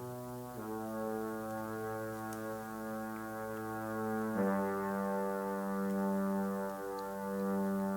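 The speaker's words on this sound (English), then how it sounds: "So there's also this reed swell in there that sounds like this." A low, reedy sustained swell holds steady, then shifts to a new pitch partway through, droning smoothly under a quiet backing track.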